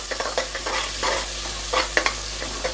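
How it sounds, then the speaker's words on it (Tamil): Chopped onion and green chilli fry in a hot pan, a steady sizzle broken by repeated scrapes and clacks of a spoon stirring, close and fairly loud with no talking. "இப்போ இந்த ஆனியன் நல்லா பொரிஞ்சு ஃப்ரை ஆகட்டும்."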